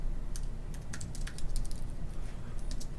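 Code being typed on a computer keyboard produces rapid, uneven clacking keystrokes, close up and fairly loud over a low background hum, with no talk.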